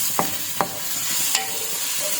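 Onions sautéing in a pan for a Filipino pancit dish: a steady sizzle with a few sharp scrapes of a spoon or spatula stirring, close up and without talk.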